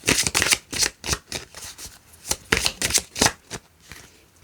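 A deck of oracle cards being shuffled by hand: repeated quick riffling and slapping bursts in an irregular rhythm, close and fairly quiet, with no voice over it.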